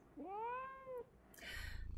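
A cat gives a single clear, rising-then-falling meow, close and fairly quiet, followed by a short burst of rustling noise.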